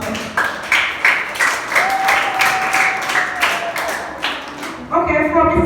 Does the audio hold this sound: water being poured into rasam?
no